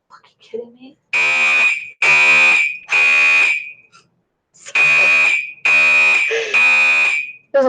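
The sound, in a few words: fire alarm sounding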